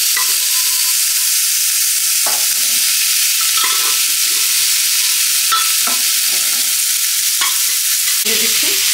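Boiled kabuli chickpeas fry in a pan with asafoetida for a khasta kachori filling, a constant close sizzle broken by repeated scraping stirs of a spoon against the pan.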